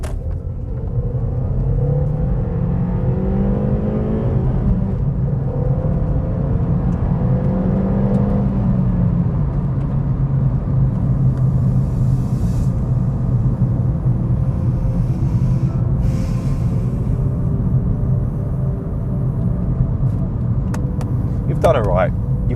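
A SEAT Ibiza FR engine revs up in one sustained blast, loud and close, its rising and falling pitch sitting under steady road rumble throughout.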